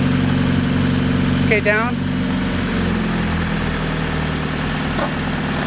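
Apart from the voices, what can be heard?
car engine running on hydrogen, revving and idling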